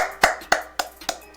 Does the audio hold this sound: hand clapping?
yes